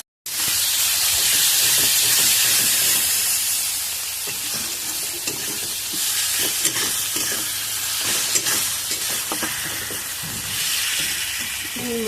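Onion, chili and ginger-garlic paste masala fry in hot oil in a pan, a constant close sizzle and hiss broken by scraping stirring strokes, with no talk.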